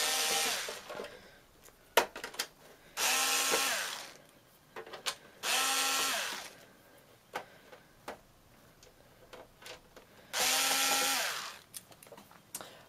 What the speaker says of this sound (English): And then you take your T9 security Torx bit.